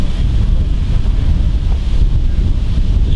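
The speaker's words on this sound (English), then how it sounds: "the wind is really whipping up now." Strong wind buffets the microphone in a continuous loud roar, gusting and rumbling without a break across the short stretch, recorded outdoors at a vintage lorry show.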